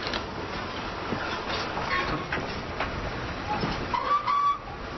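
A train rolls along its rails as a radio drama sound effect, a continuous rumble with rhythmic clatter and a brief whistle-like tone near the end.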